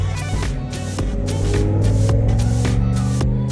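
A truck drives by outside, a loud, low droning rumble with throbbing engine harmonics that swells slightly and holds across the whole stretch.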